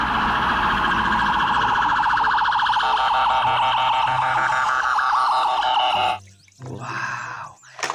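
A toy ambulance's electronic siren wails loudly and steadily for about six seconds, then cuts out and briefly starts again near the end.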